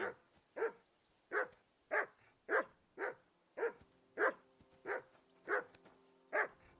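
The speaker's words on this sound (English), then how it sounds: "That barking was a pain in the ass." A dog barks steadily, about a dozen evenly spaced single barks in a slow rhythm, moderately close with a quiet background.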